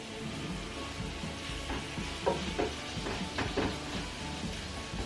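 Soft, steady sizzling of meatballs browning in a pan, with a few light scrapes and clinks of stirring.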